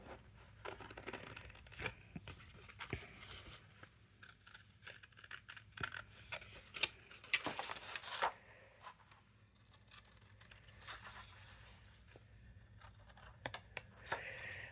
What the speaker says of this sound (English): I'm trying to cut this really quick.